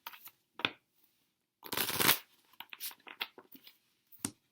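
Rustling, riffling shuffles of a Dreamer's Journal tarot deck, close and fairly quiet, with one longer burst of cards riffling mid-way and shorter flicks and taps before and after.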